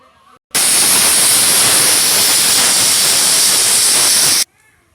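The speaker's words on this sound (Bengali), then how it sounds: "দুইটা সিটি দিয়ে দিয়েছে এখন নামিয়ে নিব" A pressure cooker holding a raw banana kofta curry vents steam in one loud, sustained hiss lasting about four seconds, steady and close, then cuts off abruptly into quiet.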